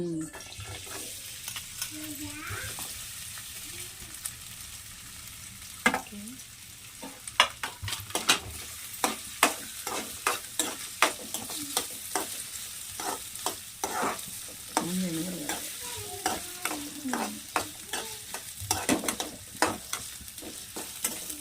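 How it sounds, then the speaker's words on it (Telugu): Ginger pieces frying in two tablespoons of oil for a ginger and jaggery chutney, a soft sizzle under frequent sharp spoon scrapes and clinks against the pan, close and mostly alone. "అల్లం ఫ్రై చేయాలి ఇప్పుడు అవి"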